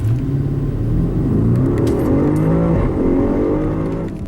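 A 2017 Audi RS7 Performance accelerating hard in dynamic mode, its engine roaring loud and deep from inside the cabin as it climbs through stepped gear changes, each rising drone dropping and building again.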